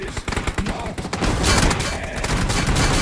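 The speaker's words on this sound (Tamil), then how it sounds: "அவ்வளவுதான் வெடி போகுது." Firecrackers go off in a dense, rapid string of sharp cracks that builds into a loud, continuous crackling burst up close.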